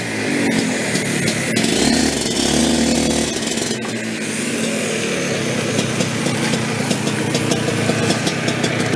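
A race kart engine runs steadily at close range, a loud buzzing drone with rough mechanical clatter that holds throughout without talk.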